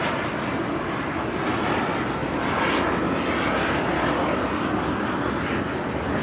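A Japan Airlines Boeing Dreamliner roars down the runway on a south side takeoff at LAX. The jet engines make a loud, steady, broadband rumble that holds close and strong throughout.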